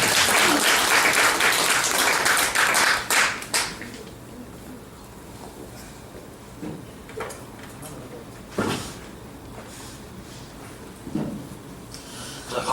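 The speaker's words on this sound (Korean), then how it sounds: "다시 한번 뜨거운 박수 부탁드립니다." A seated audience at a church officers' seminar claps loudly for about three seconds, then the applause thins out into scattered claps, shuffling and a few knocks in a quieter room.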